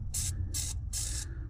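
A can of flammable penetrating oil sprays bolts on a 1951 Mercury in three quick hissing bursts, each about a quarter second long, close up and loud with short pauses between.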